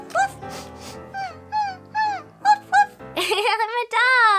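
A voice imitates a dog, letting out a series of short, high yipping barks and whiny woofs, loud and close, in a playful toddler birthday circle-time song setting.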